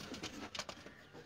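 A pigeon coos in short soft bursts over a quiet background, two or three low notes close together in a brief span.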